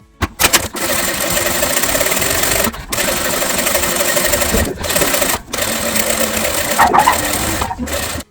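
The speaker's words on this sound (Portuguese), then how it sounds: "vou passar uma costurinha bem larga aqui, bem na beirinha" A sewing machine runs close by, stitching a wide seam along the edge of a fabric baby blanket. Its steady whirring hum goes in long stretches, broken by brief stops and restarts, with no talking.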